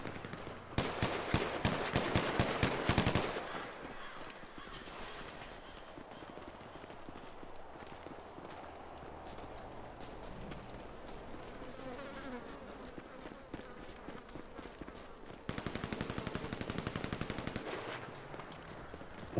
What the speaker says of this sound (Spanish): ¡Siguen disparos!